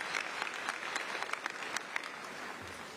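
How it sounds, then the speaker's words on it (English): Audience at a 2024 high school graduation ceremony claps steadily throughout, a dense wash of many hands with a few sharper individual claps standing out, no voices over it. "Please help me give them a round of applause for all of their hard work the last many months."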